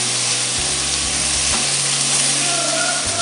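Tomatoes drop into a pan of chicken gravy and set off a loud, steady sizzle and frying hiss that fills the whole stretch, with low thuds and scrapes from the pan underneath.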